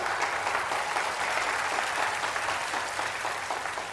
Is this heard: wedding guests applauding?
yes